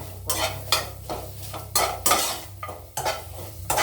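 Pounded chili paste with galangal and kaffir lime leaves stir-roasted in a pan, with repeated rhythmic scraping strokes of a utensil over a low sizzle, close and fairly loud, no voices.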